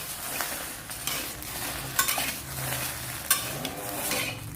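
Jinda chilies, about half a kilo, dry-roasted in a pan for a fresh chili and fermented fish jaew paste, a close rustling stir with light frying hiss and a few sharp spatula clinks against the pan, no voices.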